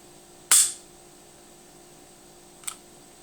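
A Smith and Wesson SD40 pistol dry-fires with one sharp, close trigger click, followed a couple of seconds later by a much fainter small click in a quiet room.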